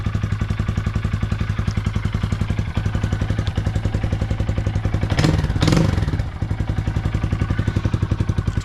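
A 2025 Honda Grom with an iStunt exhaust, baffle installed, idling just after a cold start: a steady, close, rapid thumping beat, broken by a brief louder burst of noise before settling back into the even idle.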